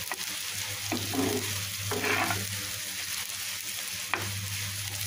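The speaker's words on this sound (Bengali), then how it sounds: "আমি এই যে পেঁয়াজ কুচি করে ভেজে নিব একটু বাদামি করে" Chopped onions frying in hot oil in a pan until brown for beresta, a continuous steady sizzle with a few scraping stirs of a spatula, close and alone with no talk.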